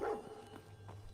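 A dog companion in the Fallout video game gives a few short, faint barks spread across a second or so, set low against a quiet game background.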